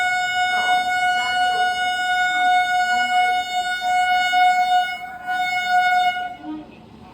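The Udyan Express train pulls into a station with a long, loud multi-tone horn blast held for several seconds, fading near the end amid station noise.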